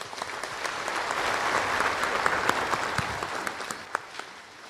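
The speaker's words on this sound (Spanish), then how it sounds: "les recibimos con un caluroso aplauso para ellos." A congregation at Mass claps warmly, an even wash of many hands with a few sharper nearby claps standing out, moderately loud and sustained.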